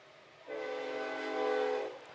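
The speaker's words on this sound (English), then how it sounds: "Here comes a train early on today, moving left to right." A passing train's horn blares near a baseball game in a long, loud, sustained tone over rumbling rail noise, swelling then easing off after about a second and a half.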